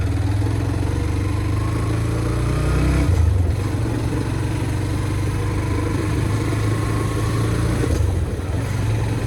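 A Hero Extreme 125R motorcycle in fifth gear runs at a steady low speed with the throttle released, its engine drone continuous and close, with a brief surge in the sound partway through.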